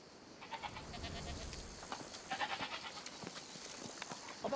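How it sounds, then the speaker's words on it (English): A goat bleats in the video game A Plague Tale: Requiem, several wavering, nasal bleats in a row at moderate distance over a soft ambient game background, with no talk. "Oh, come on. It's a goat,"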